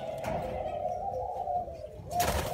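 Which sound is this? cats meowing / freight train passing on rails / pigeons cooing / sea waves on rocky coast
pigeons cooing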